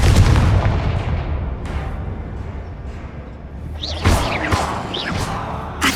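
A Confringo spell goes off in Hogwarts Legacy as a heavy booming blast, followed by whooshing fiery bursts and sharp cracks a few seconds later. The blasts are loud and close, with no voices over them.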